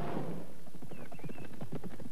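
Horse hooves clip-clop in a steady, even rhythm on a hard road, fairly close, with a low engine-like hum underneath.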